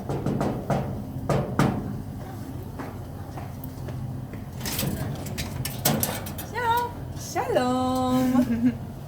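Several sharp raps on a door during a Hanukah tour in Zefat, spaced irregularly over a muffled background, followed by clattering and squeaky door sounds as people begin to talk.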